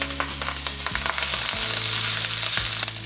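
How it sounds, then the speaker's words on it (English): Kale and garlic saute in a pan with a steady, close sizzle and frying crackle, punctuated by a few sharp clinks and stirring scrapes, with no talk. "While the kale is sauteing"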